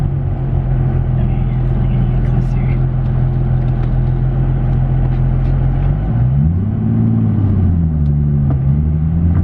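An Infiniti G37 with a manual transmission drives in first gear in a parking lot, its engine giving a steady, loud low rumble that rises and falls slightly near the end, with people talking over it.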